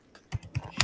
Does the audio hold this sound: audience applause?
no